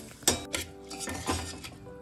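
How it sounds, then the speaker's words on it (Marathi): Rice poured into a pan of ivy gourd tempered with asafoetida, then stirred: a sharp clatter of grains hitting metal followed by repeated scraping and clinking of a spoon against the pan, close and fairly loud, no voices. "आता आपण यामध्ये तांदूळ घालूया."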